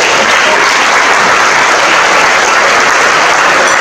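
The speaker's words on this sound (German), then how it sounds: "Applaus" Dense, loud applause fills a hall at the opening of a new school cafeteria in Bochum, a steady roar of many hands clapping, with no talk over it.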